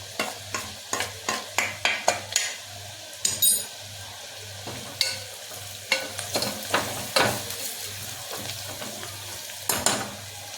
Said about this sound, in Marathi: आता आपण हळद टाकूया। कांदा सॉफ्ट झालेला आहे।